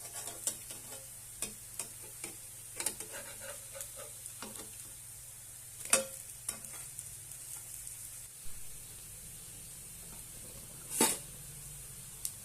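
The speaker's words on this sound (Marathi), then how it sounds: "मस्त असे आपण खरपूस असे भाजून घेऊया" Mung dal and bottle gourd patties shallow-fry in a pan until crisp, a steady soft sizzle of hot oil throughout, broken by occasional pops and spatula taps.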